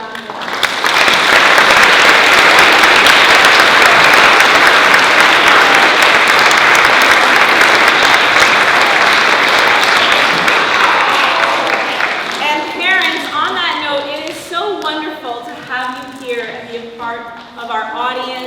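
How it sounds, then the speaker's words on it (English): A school assembly audience applauds loudly and steadily for about twelve seconds, then the clapping fades and a voice speaks over the last scattered claps. "We'll give you another round of applause."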